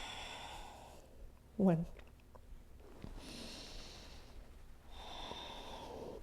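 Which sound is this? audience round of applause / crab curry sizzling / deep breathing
deep breathing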